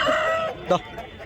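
A rooster at the Nallapadu poultry market lets out a short, hoarse and weak crow, cut off after about half a second and followed by a brief cluck.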